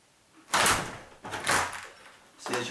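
A self-closing door hinge being adjusted: the door swings partly open and springs shut, giving three separate bursts of creaking and thudding at close range with no talk.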